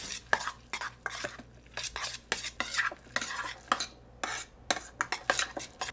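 Beef heart tartare being stirred in a bowl with a utensil, giving a run of quick, close scraping and clinking strokes in irregular bursts with short pauses between, and no voices.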